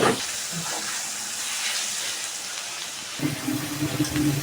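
Small pieces of chicken breast meat frying and being stirred in a hot pan, a steady loud sizzle and hiss throughout with a brief stir or clatter near the end.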